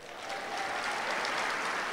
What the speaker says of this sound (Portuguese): Você poderia dar uma salva de palmas?